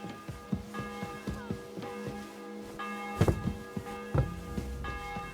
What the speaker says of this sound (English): Bells ringing